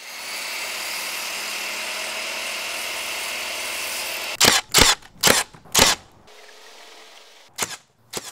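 A camera drone hovers with a steady, close propeller whine for several seconds, which then gives way to a series of sharp, loud bursts of a power saw or similar tool cutting 2x4 lumber for a cottage build.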